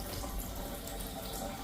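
Hot water runs steadily from a jacuzzi faucet, a continuous loud splashing stream close by with no voices.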